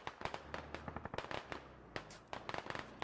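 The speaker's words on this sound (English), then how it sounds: "Gunnery Sergeant Rabbit eats a grenade from Expit." A grenade explodes in the military shooter Squad during a one-life squad event, heard as a loud cluster of sharp, crackling pops and bursts spread over a few seconds, with no talk.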